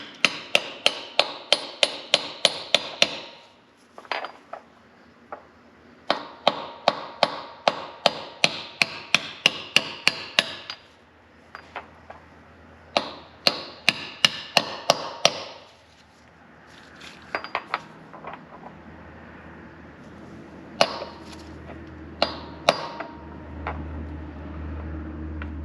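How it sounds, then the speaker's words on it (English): A hammer strikes a socket to tap a Tremec transmission part into place, sharp metallic clinks in rapid bursts of a dozen or so blows, separated by short pauses and scraping handling noise, close and clear with no speech. "get a socket just this is about the same size and tap it in"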